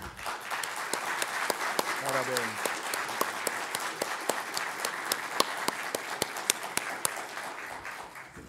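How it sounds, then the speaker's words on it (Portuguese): An audience at a technical lecture on geophysical tests for determining the length of existing foundations applauds the speaker, sustained, dense clapping throughout, with a voice briefly speaking over it. "Eu quero pedir uma salva de palmas para ele."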